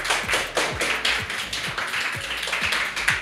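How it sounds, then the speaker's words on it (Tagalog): A church congregation at a New Year's Eve service claps together in a steady, rhythmic beat, each clap a sharp snap at roughly half-second intervals. The clapping is moderately loud and continuous, with no talking over it. "Palakpakan po natin ang Panginoon."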